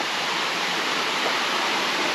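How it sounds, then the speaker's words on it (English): Water rushing steadily at the Stone Mountain grist mill in Georgia, a dense, continuous broadband roar like a small waterfall or fast creek, loud and close with no voices over it. "Hear water running."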